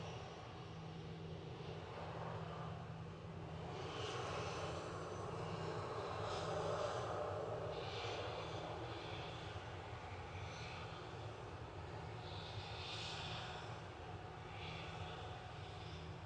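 Aer Lingus airliner engines hum at Manchester Airport, a faint, distant, steady drone that swells gently in the middle, with no talk.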